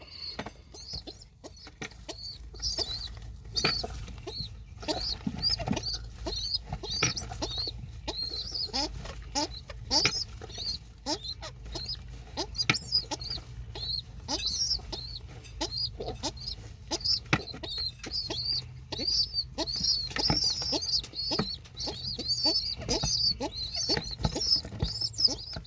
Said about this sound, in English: the honking noise is why some people refer to slightly older baby pigeons